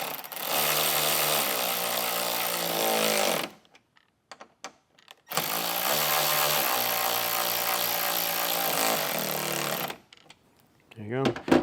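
A power tool drives 8mm bolts into a speaker pod on a Ford Bronco, giving two long, loud, steady whirring runs with a short quiet gap between them and a few brief clicks and sounds at the end.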